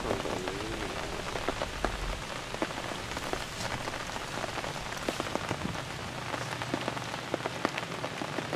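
Steady rain falls outdoors on a wild fishing trip, a dense even patter of drops hitting surfaces with scattered louder splats and no talking.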